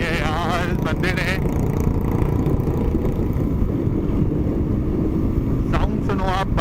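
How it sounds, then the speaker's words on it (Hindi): A self-modified 2008 Bajaj Pulsar 200 motorcycle runs with a loud, continuous engine drone mixed with heavy wind rush, while a rider talks over the noise. "साउंड सुनो आप बाइक की, गजब अच्छा है"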